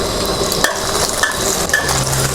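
Egg stir-frying over high heat for Shan noodles hisses steadily in the pan, with a utensil repeatedly scraping and clinking against the metal.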